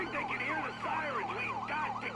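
Police siren in the GTA V video game, wailing in rising and falling sweeps over a steady low engine hum, loud and continuous throughout.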